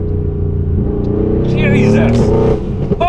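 A modified Nissan GT-R of about 760 horsepower revs its engine close by, a steady rumbling idle rising into a sharp rev and then dropping back, while people talk over it.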